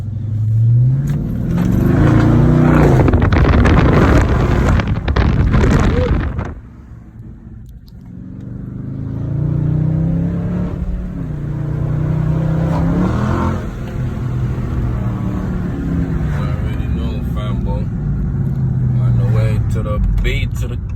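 Car with a mid muffler delete revs loudly for a few seconds, then drops to a lower rumble as people talk over it during a car wash.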